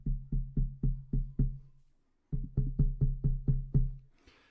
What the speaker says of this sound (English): I'm going to tap on the microphone stand right now.